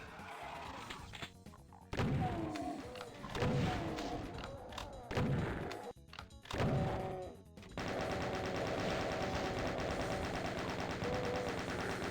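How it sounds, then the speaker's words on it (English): Enemy gunfire in the video game Doom II: loud, rapid bursts of shots and heavy impacts in irregular clusters, then a sustained, dense stretch of firing. "Who's shooting at me?"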